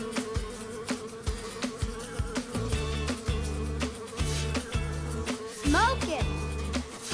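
Buzzing bees in a Paw Patrol rescue video game, a steady insect drone sitting under bouncy game music and sound effects, with a character's voice speaking over it near the end.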